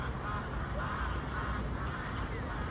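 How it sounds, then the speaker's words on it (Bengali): Ducks and swans quack and honk across a lake at Salam Park in Saudi Arabia, a steady dense chatter of many birds at middle distance blended into continuous outdoor ambience. "অনেক শুধু হাঁস আর হাঁস।"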